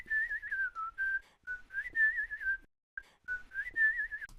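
A recorded whistled melody with a steady, clear tone, phrased in short connected notes with one brief pause, heard alone and fairly faint.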